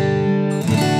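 Acoustic guitar strummed in a simple pattern of two strums per bar, sustained chords ringing with a chord change partway through, close and clear with no talking.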